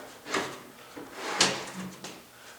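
A wooden drawer on soft-close glides in a new CNC woodworking workbench slides shut with several soft thumps and knocks, close and moderately loud, ending in a gentle damped stop.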